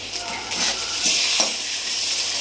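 Chili paste goes into a pan of frying aar fish curry, a loud continuous sizzle with stirring scrapes throughout and no voices.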